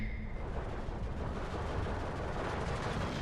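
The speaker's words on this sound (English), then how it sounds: "And mortar fire. It's annihilating this forest." Mortar fire in the video game Steel Division 2 hammers a forest as a dense, continuous rumble of blasts, a heavy low roar with no distinct gaps.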